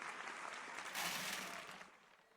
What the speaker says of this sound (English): Give a round of applause to your Red Alliance.